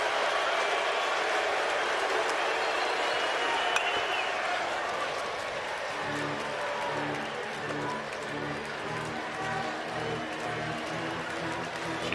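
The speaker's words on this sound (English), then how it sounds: "Crowd comes to its feet again here in the bottom of the 9th of a 3-3 game" A stadium crowd at a College World Series championship game between LSU and Florida rises and cheers in the bottom of the ninth of a tied 3-3 game. The roar is broad and sustained across the whole stretch, with a rhythmic chant or band pulse joining partway.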